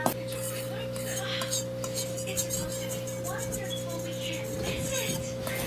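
A large fork stirs and scrapes through bread batter in a bowl, producing soft clinks and rubbing strokes while a person talks over a steady background hum.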